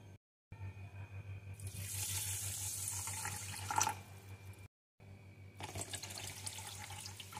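Water poured from a vessel into sugar in a pan to make syrup, a soft splashing gush near and clear, interrupted briefly then resumed, without talk.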